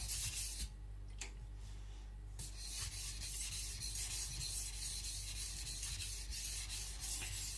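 Shibata Kotetsu gyuto knife having its sides polished on a Shapton Pro 220 whetstone, repeated close scraping strokes in a steady back-and-forth rhythm after a short pause near the start.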